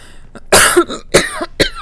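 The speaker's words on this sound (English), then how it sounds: "my cough is coming back" A person coughs close to the microphone during a modded Dragon Age Inquisition gameplay session, first a faint catch, then three loud harsh coughs spaced about half a second apart, with no talk in between.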